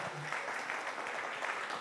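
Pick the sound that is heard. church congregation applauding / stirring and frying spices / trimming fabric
church congregation applauding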